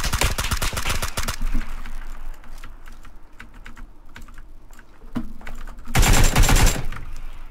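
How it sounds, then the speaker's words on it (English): PUBG gunfire comes as rapid automatic bursts, a dense volley at the start and another near the end, with sparse single shots and clicks between them. "Someone's shooting me from somewhere else."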